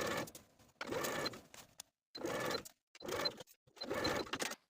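A sewing machine sews a lining seam on a pinafore dress with backstitching, running in four or five short close bursts separated by brief silences.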